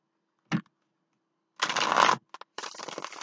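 A tarot card deck is shuffled up close in a few bursts: a brief riffle, a longer flurry, then a couple of quick taps and another run of shuffling, with no talk.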